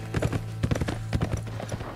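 Horse hooves clip-clop in The Escapists 2, a quick, uneven run of sharp hoof knocks in close clusters, steady and near throughout with no talking.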